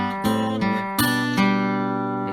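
Fingerstyle acoustic guitar picking the opening phrase of a song's verse: a handful of plucked notes over a steady low bass, with two stronger accented strums, quiet and close with no voice.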